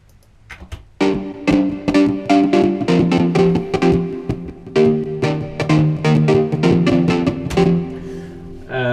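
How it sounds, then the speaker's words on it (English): Showtech-style synth built from scratch, playing a dense, punchy pattern of rapid rhythmic stabs and chords that enters abruptly after a quiet start, loud and close with no talking. "It's a kind of Showtech synth"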